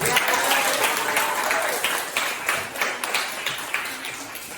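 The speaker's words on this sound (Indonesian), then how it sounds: "Tepuk tangan untuk temannya" A classroom of students applauds a classmate, a dense patter of many hands clapping at close range that gradually thins out, with some voices underneath.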